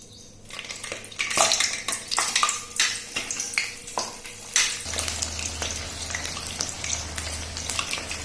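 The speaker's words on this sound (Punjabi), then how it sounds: "ਹੁਣ ਅਸੀਂ ਇਹਦੇ ਵਿੱਚ ਇੱਕ ਇੱਕ ਕਰਕੇ ਸ਼ਿਮਲਾ ਮਿਰਚ ਫਰਾਈ ਕਰਾਂਗੇ" Potato-stuffed capsicums placed one by one into hot oil, a steady crackling sizzle that swells once they are in, with clinks of a metal utensil against the pan close by.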